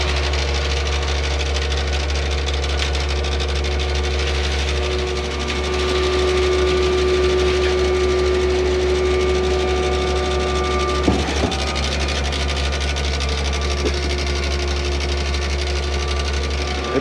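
A shotcrete boom pump runs steadily and slowly with a constant low mechanical drone and hum, close and loud throughout, with a brief clunk near the end.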